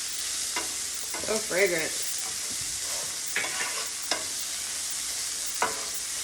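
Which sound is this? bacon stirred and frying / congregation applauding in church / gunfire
bacon stirred and frying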